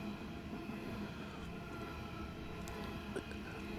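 A train rolls past behind a house, a steady low rumble of wheels and cars heard from a moderate distance with no talk over it.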